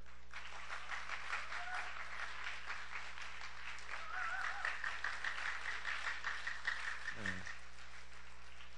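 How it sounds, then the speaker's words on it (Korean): Faint applause from a church congregation encouraging third-grade children during a Sunday service, a soft crackle of clapping heard at a distance with some low murmuring mixed in. "3학년들 힘내라고 격려 박수 크게 시작"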